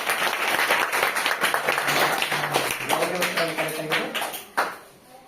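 Loud applause from a classroom of young children at a quiz show, dense rapid clapping that continues for several seconds, with a few children's voices under it, then a sharp knock near the end.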